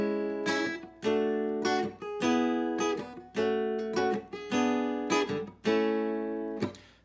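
Guitar strumming three-note chords stepping through a major scale, each chord struck cleanly and left ringing about a second before the next, a steady sequence of distinct chords with no talk.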